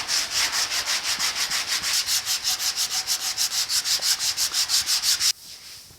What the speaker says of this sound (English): This is well-worn 80 grit, so that'll help me not gouge out too fast.